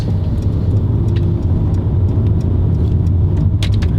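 Mercedes C400 4MATIC with automatic gearbox cruising in second gear: a constant low engine drone and road rumble from inside the cabin, steady and moderately loud, with faint clicks on top.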